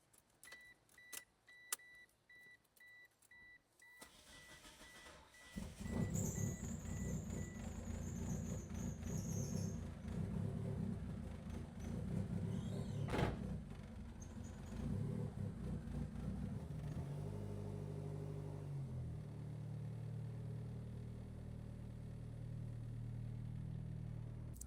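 A GSX car being started, warmed up and pulled out of a garage: a low steady engine rumble sets in after a few seconds of quiet clicks and jangles, with a brief squeal, then the idle shifts pitch as the car moves.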